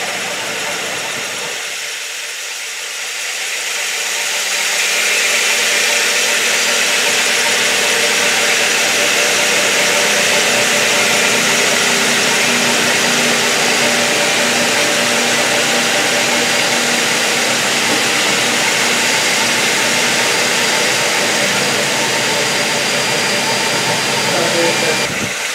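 Concrete floor grinder running steadily over concrete treated with EZ Grind softener, a loud continuous mechanical drone that starts after a brief quieter moment and holds at near-constant level throughout, with faint speech underneath.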